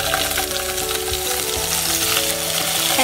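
Paneer pieces frying in hot melted ghee, a loud, dense, continuous sizzle heard up close with no pauses.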